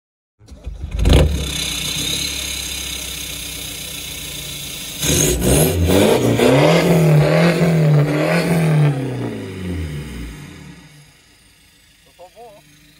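A 2017 Mazda 3 facelift in Sélection trim revs its engine, the note swelling and climbing in pitch before easing off and dropping away, heard close and fairly loud.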